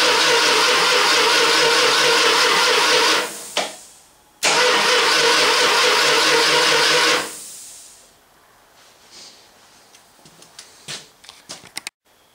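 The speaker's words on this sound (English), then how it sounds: "first starter we're going to test is one of those old original early style starters" Early small-frame Chrysler starter from the mid-to-late 1960s cranking an engine, a loud continuous whirring grind for about three seconds, a brief stop, then a second burst of cranking, followed by quiet clicks and rattles.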